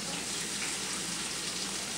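A steady, soft sizzle of small latkes frying in hot oil in a pan, constant and close, with no voices.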